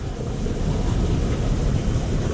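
Water rushes somewhere behind rocks near a shallow cave along the Courthouse Rock trail, a steady broadband wash mixed with wind buffeting the microphone, with no voices.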